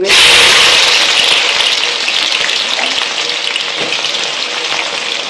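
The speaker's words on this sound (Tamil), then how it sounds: "வெங்காயம் நல்லா கோல்டன் ப்ரௌன் நேரம் ஆகிற வரைக்கும் நல்லா வதங்கணும்." Sliced onions fry in hot oil in a pan while cooking a biryani-style tomato rice with whole spices and a bay leaf, giving a loud, steady sizzle that eases slightly over time as they are stirred.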